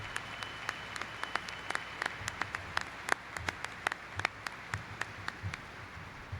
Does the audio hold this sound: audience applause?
yes